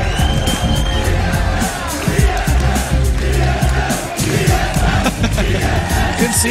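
Large esports arena crowd at a League of Legends world championship group match roaring and cheering after a TSM win, loud, dense and sustained throughout, with whoops and yells rising out of the noise.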